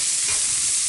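Onions frying on a Blackstone flat-top griddle give a steady, close, loud sizzle with faint stirring scrapes underneath, continuous through the short moment with no voices.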